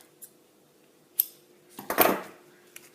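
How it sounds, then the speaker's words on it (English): A quick metallic snip of ribbon scissors trimming ribbon, with a couple of faint clicks before it, close and otherwise quiet. "Trim that little bit poking off the side there with my ribbon scissors."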